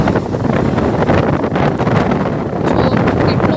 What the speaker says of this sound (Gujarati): જો કેટલો પવન છે જોરદાર